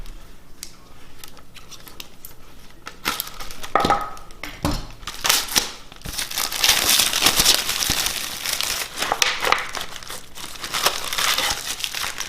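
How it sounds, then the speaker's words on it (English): Plastic label wrapper is peeled and torn off a plastic bottle up close, giving continuous crinkling and ripping that grows denser and louder after the first few seconds. "you'll peel the wrapper off of your bottle here."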